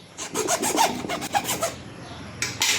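Date seeds being cut give a close, rhythmic rasping like short sawing strokes, about a dozen quick scrapes, then a brief pause before two more.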